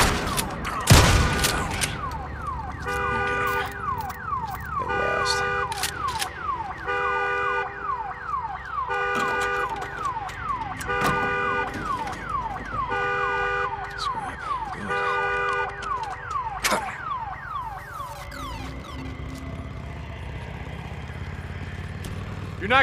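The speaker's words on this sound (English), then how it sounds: "Damn alarm" In the video game Days Gone, an alarm blares in a repeating pattern of rising electronic tones, loud and continuous, with gunfire-like bangs and voices talking over it at times.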